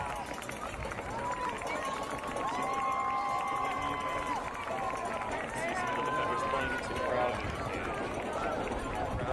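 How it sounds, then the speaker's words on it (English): A high school varsity football crowd, STCS against Gilbert Christian, swells into a loud, sustained roar of voices and shouts beneath a commentator talking throughout. "Crowd getting loud here."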